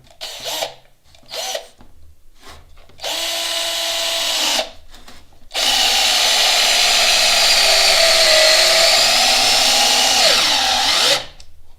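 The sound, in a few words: Parkside PABS 20-Li D4 cordless drill driving screw into wood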